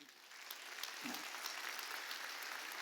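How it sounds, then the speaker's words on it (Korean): A church congregation at a Wednesday worship service claps steadily for two elderly members standing up, a soft, even wash of hand claps heard from a distance across the room. "박수 좀 쳐주세요."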